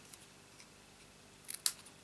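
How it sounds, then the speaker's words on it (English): Paper snips cut through card stock in a quiet room: a couple of soft crisp snips near the end, faint and close, with no talking. "Then I'll take my paper snips."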